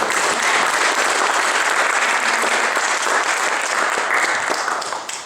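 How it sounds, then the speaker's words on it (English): Loud, sustained applause from a sizable audience at a Startup Grind talk in Minneapolis, steady clapping for several seconds before it begins to taper off at the end. "let's give a big round of applause for it"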